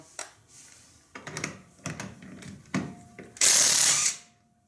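A DeWalt 20V 1/2 inch cordless impact gun removing lug nuts, with several close mechanical clicks and handling knocks followed by one loud, harsh burst of hammering impact near the end that cuts off abruptly.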